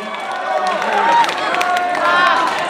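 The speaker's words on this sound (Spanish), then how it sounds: "Un aplauso para ella" Audience at a cosplay contest awards ceremony in Guadalajara clapping and cheering, a continuous crowd swell with rising and falling loudness, faint whistles and babbling voices mixed in.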